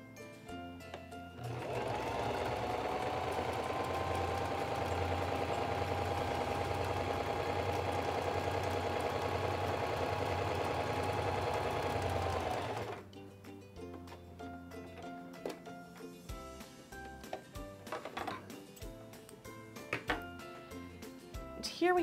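A SINGER 2273 Esteem II sewing machine stitches a narrow, short zigzag. Its motor gives a steady, loud, humming whir for about eleven seconds, then stops, leaving quieter handling clicks and rustles.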